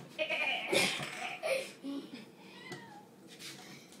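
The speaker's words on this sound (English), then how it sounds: "Let's go kitty in the bag" A cat meows repeatedly, close by, in short plaintive cries while getting into a bag, mixed with quiet rustling and faint voices.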